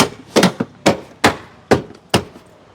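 Plastic trunk trim on a PT Cruiser being struck into place by hand, giving a series of six sharp, close knocks spaced irregularly about half a second apart with no talking.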